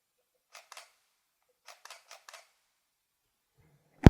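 A camera shutter fires at a 1/10-second exposure: two quiet groups of crisp mechanical clicks in a hushed room, closing with a single sharp thump.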